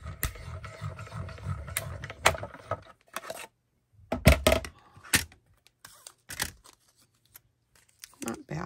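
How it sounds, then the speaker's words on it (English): A die cutting machine cutting a paper card piece, heard as a series of sharp clicks and short grinding bursts separated by quiet gaps, with a voice talking at the start. "So wish me luck when I go to die cut that out"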